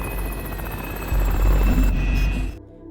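Helicopter flying in a film scene, a loud steady rotor and engine roar with rhythmic blade chop that cuts off abruptly near the end.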